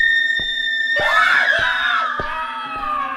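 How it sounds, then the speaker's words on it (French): A group of students screams together in a piercing, rising wail for a horror story. A ticking, clock-like tapping pulses steadily underneath, and it stays audible before and after the screams. "entend les hurlements des étudiants"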